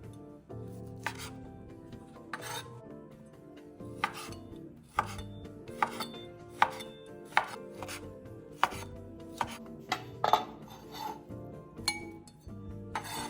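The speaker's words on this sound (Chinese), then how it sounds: "接着再将肉切成小块" Boiled pork belly is chopped into small pieces with a knife on a board, giving loud, irregular thuds and clacks spread over several seconds with faint clinks between them; no speech.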